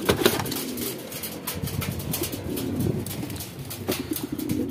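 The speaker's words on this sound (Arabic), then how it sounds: "وهذا هو الحمام القتاله اخوتي ديال الاطلس" Atlas fighter pigeons cooing in a loft, with soft repeated coos amid rustling, shuffling and occasional wing flutters, close and fairly quiet.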